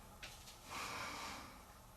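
A single audible inhalation through the nose during a half-locust yoga pose, soft and close, swelling briefly and fading, with no talking.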